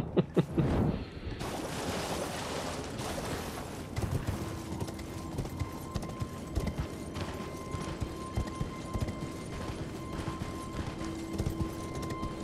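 Rhythmic horse hoof clip-clops patter steadily under an Elden Ring game soundscape, with a low ambient hum and a faint tonal drone.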